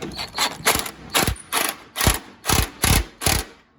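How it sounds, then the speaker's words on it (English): A ratchet with a 19mm socket tightening a nut on a John Deere lawn tractor during a gas tank install, eight loud, close, rhythmic clicking bursts in steady succession. "this is a 19mm socket on this nut, and we'll go ahead and crank it up"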